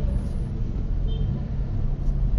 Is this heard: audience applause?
no